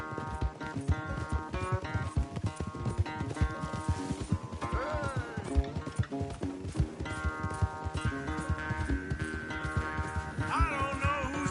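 Hooves gallop in the Red Dead Redemption 2 video game, a fast rhythmic clip-clop pounding steadily and close, overlaid with game music and effects and no spoken words.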